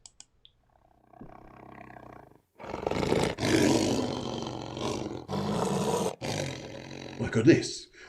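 A voice imitating a lion, giving long, rough, throaty growls and roars in several drawn-out bursts with brief pauses between them, loud and close.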